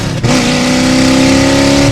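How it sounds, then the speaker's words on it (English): A Fox Body Mustang GT V8 revs hard, heard from inside the car: a loud, raw, steady engine drone with a rising pitch after a brief dip at the start, no talking over it. "This is NASCAR, like this is the sound I wanted of a NASCAR V8."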